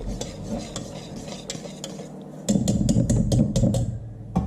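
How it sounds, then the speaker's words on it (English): A bubbling sauce being stirred in a pot on the stove, a continuous scraping and swirling with clinks of the utensil against the pot, growing louder and busier midway, no voices. "it's bubbling nice and good. So we're going to keep stirring it."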